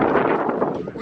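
Strong wind gusts past an open car door in a parking lot, a dense, steady roar of buffeting that fills the whole second close to the microphone.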